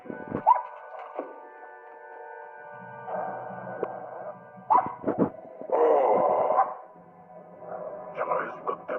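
A dog barks several times amid a film soundtrack, with sharp bursts interleaved with dialogue and background tones at moderate distance.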